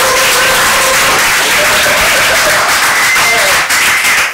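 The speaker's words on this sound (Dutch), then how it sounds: "Dus geef hem een heel daverend applaus" Sustained audience applause fills the space at a live poetry club evening in Rotterdam, a dense steady wash of clapping from a crowd, loud and continuous throughout.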